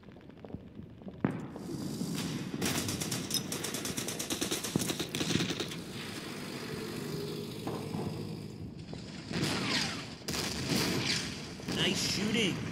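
Gunfire from a BT-42 tank in the World War II strategy game Order of Battle, a run of loud rapid bursts and bangs with a rumbling low end over several seconds, with someone talking over it.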